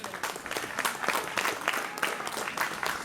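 An outdoor crowd at a Sardinian folk festival in Piossasco applauds a singer, with continuous fairly distant clapping.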